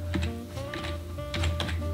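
Clicky typing on a computer keyboard at a streaming desk, quick bursts of keystrokes in two clusters over a steady hum, close and moderately loud, with no talk.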